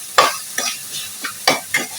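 Chopped onions stirred and sautéed in a pan, a spoon scraping in several uneven strokes over a soft, steady sizzle, close and alone.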